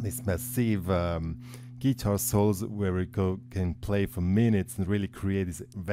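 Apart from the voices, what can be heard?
None of the usual background noises is heard.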